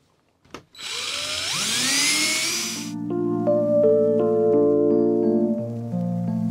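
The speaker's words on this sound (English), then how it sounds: "I'm going to use a very wide drill bit" A power drill whirs up to speed, then grinds steadily and loudly through material with a very wide bit, its pitch shifting as it cuts.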